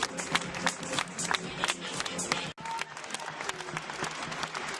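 An audience at a Route du Rhum Class40 sailing race trophy ceremony gives sustained, dense applause, a crowd of many hands clapping steadily at middle distance with a brief dropout midway, then resuming.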